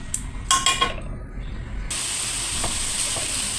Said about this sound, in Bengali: এখন দেবো আমি গাজর কুচি, এখন দিয়ে ভালোভাবে ভেজে দেবো